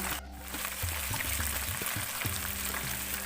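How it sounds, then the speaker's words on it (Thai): Chilies fry in hot oil for a crispy Thai chili snack, giving a dense, continuous crackling sizzle, close up, with scattered bubbling pops and a few soft scraping knocks. "ตอนนี้พริกทอดของเราก็เริ่มได้ที่แล้วค่ะ"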